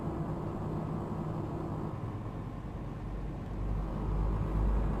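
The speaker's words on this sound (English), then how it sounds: "you'll be able to hear the rumble strip" Heavy low rumble of truck tyres running over a rumble strip in Euro Truck Simulator 2, a steady droning roar that swells louder toward the end.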